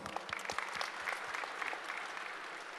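Moderately sized audience at a technical session claps for a speaker, individual hand claps distinct and fairly quiet, rapid and uneven, heard at some distance.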